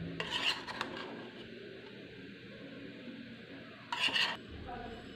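Vegetable pulao being served out of a cooking pot with a spoon: two short bursts of scraping and clinking against the pot, near and clear, separated by a quiet stretch of kitchen background.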